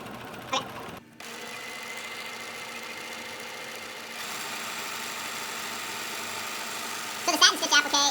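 A sewing machine runs a satin stitch applique, its motor humming steadily for several seconds, with brief clicks and handling noises at the start and end.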